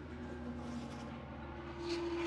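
An Amtrak passenger train passes somewhere in California, a faint, steady rumble with a sustained horn-like tone that swells near the end.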